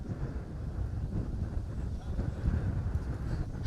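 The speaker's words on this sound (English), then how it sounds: "it's really windy, really hard to eavesdrop when it is this windy" Wind buffets a microphone outdoors at a car rally in Jersey, a loud continuous low rumble and gusty thumping with no clear voice over it.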